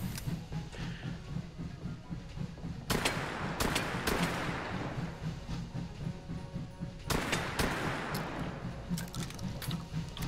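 Simulated gunfire in the VR shooting game Hot Dogs, Horseshoes & Hand Grenades, played without a suppressor: sharp loud shot bursts at about 3, 4 and 7 seconds, with further shots near the end over a constant low background hum.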